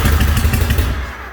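A custom Shovelhead Evo motorcycle engine in a workshop tries to fire, giving a loud, close burst of chugging, thumping cranking that fades away after about a second.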